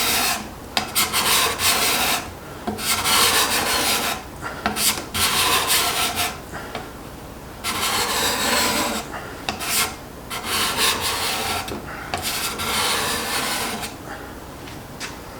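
Steel card scraper freshly burred with an Accu-Burr burnisher, taking fine shavings off a wooden board: repeated rasping strokes in a steady rhythm, close and fairly loud, with short pauses between passes and no talking.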